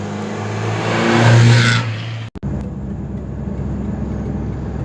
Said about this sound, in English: this is us driving the Porsche